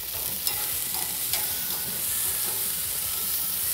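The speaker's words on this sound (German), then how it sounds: "Und da rösten wir unser Brot drauf." Bread toasts on a grill beside marinated neck steaks, giving a steady close sizzle and hiss with a few brief scraping ticks, no voices.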